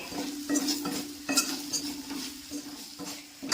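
Coriander and black pepper powders roast in a pan while a utensil stirs them, giving repeated close scraping clinks over a soft continuous sizzle. No one speaks.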